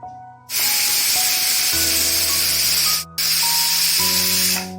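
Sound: pressure cooker whistle on gas stove

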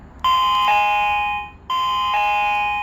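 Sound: WiFi GSM alarm system doorbell chime triggered

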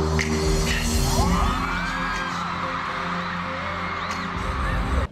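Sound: fans screaming in a crowd

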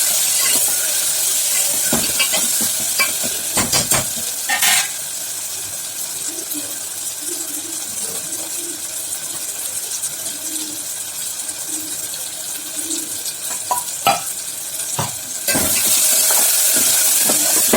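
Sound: onions frying and being stirred in a pan for mutton biryani

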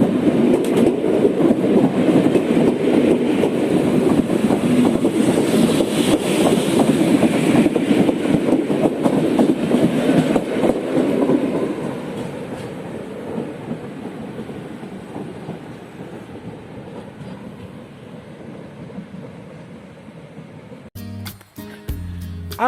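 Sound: regional passenger train departing station

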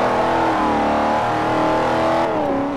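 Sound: supercharged car engine revving in Forza Horizon video game

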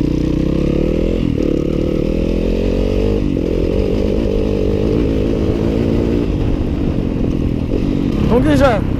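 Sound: Yamaha WR-F 250 2015 motorcycle engine revving

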